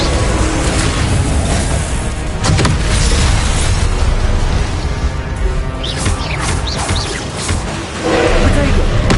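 Spell blasts and impacts from the video game Hogwarts Legacy on PS5, a dense run of loud booming crashes and whooshes layered with game effects, with shouted spell incantations over them.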